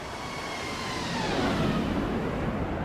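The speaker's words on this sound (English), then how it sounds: "I think we need a bit of a flyby" A Boeing 777 airliner passes by in the X-Plane 12 flight simulator near Kuala Lumpur, a steady broadband jet roar that swells gently toward the middle and holds loud to the end, with no voices.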